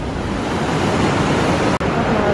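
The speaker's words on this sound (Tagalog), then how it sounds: "Ng sobrang lalakas na alon na may mga nagsisurf." Powerful surf waves pounding at a surfing spot in Siargao, a loud, continuous roaring wash of broadband noise with wind buffeting, broken by one brief dropout near the end.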